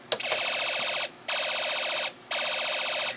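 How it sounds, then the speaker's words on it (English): An Elenco Snap Circuits alarm IC playing its laser gun sound effect through a small speaker: three bursts of rapid warbling electronic pulses separated by brief gaps, close and fairly loud with no talking. "the alarm IC is producing the laser gun sound effect, but as it goes on, it's getting slower, and it cuts completely out"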